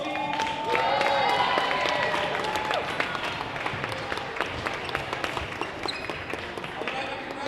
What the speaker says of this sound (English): Can we get a round of applause for both teams?